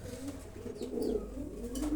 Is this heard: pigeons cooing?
yes